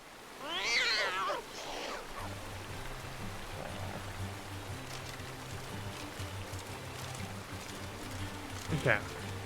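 A black cat meows close by, a pair of rising, wavering cries near the start and another short meow near the end, over a low background hum with a voice speaking.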